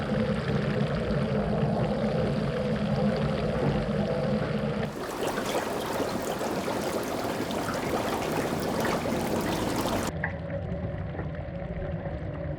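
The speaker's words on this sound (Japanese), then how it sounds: "さらに水槽にはマイクロバブルと呼ばれる細かい気泡が送り込まれる。" Fine microbubbles are pumped into an oyster tank, a steady bubbling, pouring hiss of water that changes character twice as the scene shifts, continuous and fairly close.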